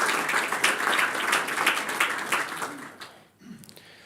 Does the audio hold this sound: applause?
yes